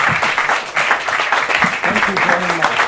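Dense audience applause fills a small bar after a poetry reading, many hands clapping loudly and continuously with some voices mixed in.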